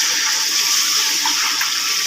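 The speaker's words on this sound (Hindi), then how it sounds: "अब इसमें पानी शामिल करेंगे।" Water pours steadily into a pot of sautéed lentils for daal, a continuous rushing splash from start to finish.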